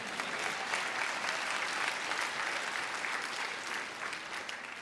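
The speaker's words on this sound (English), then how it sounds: "You can clap for that." An assembly audience claps for newly adopted House resolutions at the inauguration of the 103rd General Assembly, a steady, dense wash of applause sustained evenly throughout at moderate distance.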